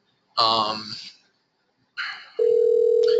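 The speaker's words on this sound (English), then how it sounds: "the phone on my desk is ringing and I'm not sure how to turn that off" A desk telephone rings with a steady electronic tone that starts abruptly and holds, right after a short burst of voice.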